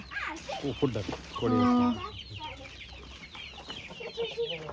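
Chickens on a village farm cluck in short, close bursts, with a louder run of calls partway through, while people talk nearby.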